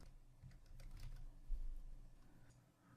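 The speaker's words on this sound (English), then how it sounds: "We'll type in my username and my password." Quiet, close typing on a computer keyboard as a username and password are entered: a quick run of soft key clicks and taps over about three seconds, with no voice.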